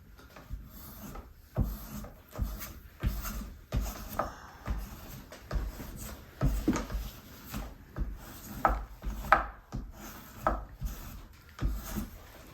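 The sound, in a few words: spokeshave shaving hickory bark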